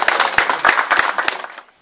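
A small audience claps in unison for the first edition's prize winner, a few sharp, close, rhythmic claps repeating for over a second before quickly fading out.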